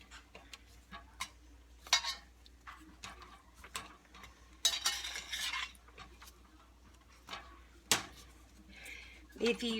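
Spoon scraping and clinking against a pot as regular-size marshmallows melt over lowered heat for a sweet dipping sauce, in scattered irregular bursts at close range with a low background hum.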